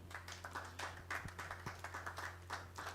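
Scattered hand clapping at a public gathering honoring named guests, a steady low hum running underneath as irregular claps pop through across the few seconds.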